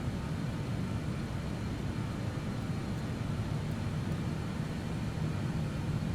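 BAE 146 jet engines at maximum takeoff thrust, a steady broadband roar with a heavy low rumble, even and unbroken throughout, heard from inside the aircraft.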